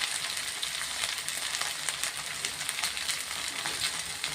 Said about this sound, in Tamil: வெண்டைக்காய் சேர்க்கலாம். லேசாக கொஞ்சம் அந்த எண்ணெயில் கொஞ்சம் வதக்கி விட்டுருங்க.